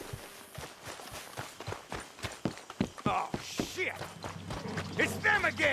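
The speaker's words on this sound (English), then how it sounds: "Horse is here." Horse hooves clip-clop on the ground in the Red Dead Redemption 2 video game, a steady run of nearby footfalls, joined later by other game sounds and low rumbling.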